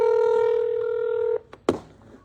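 A telephone on speakerphone sounds a long steady dialing tone, which cuts off and is followed by a couple of short clicks and a louder click, close and clear.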